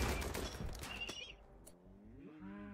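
Colonists fire guns in the video game RimWorld: a fast, dense burst of shots that thins out and fades, ending in a drawn-out rising and falling tonal cry.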